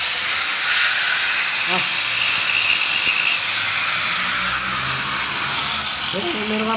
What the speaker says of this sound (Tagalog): Papagrind ko lang po. Para for finishing na siya.